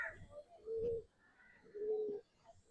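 Pigeons coo softly in a loft on top of a shed, two rounded low coos spaced about a second apart over quiet background.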